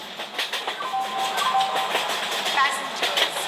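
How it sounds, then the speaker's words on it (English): A goods train of tanker wagons, hauled by a WDP 4D diesel locomotive, arrives at a station platform. It makes a steady rolling rumble and wheel clatter throughout, with faint voices or an announcement beneath it. "Train number 10201 Goods Express is arriving"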